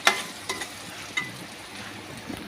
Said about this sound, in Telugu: కొంచెం సాల్ట్ కూడా వేసుకొని మిక్స్ చేసేసుకోవచ్చు ఫ్రెండ్స్ బాగా మిక్స్ చేసుకోవాలి